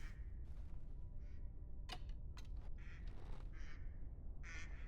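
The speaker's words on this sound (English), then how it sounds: "Here are the ducks." Ducks quack in short scattered calls in the game Medieval Dynasty, several birds over a soft ambient bed, moderately near and alone without talk.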